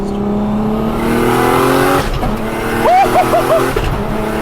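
An 800hp Nissan R34 GTR race car with an HKS RB28 engine and sequential gearbox accelerates hard on the street. Its loud, close engine drone climbs, breaks at a shift, then pulls again, with brief voices underneath.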